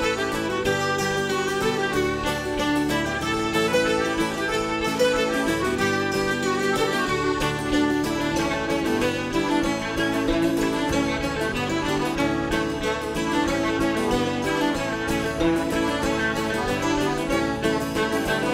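A band plays the traditional folk tune The Full Rigged Ship, a dense, lively, continuous instrumental with a steady driving rhythm, loud and close throughout.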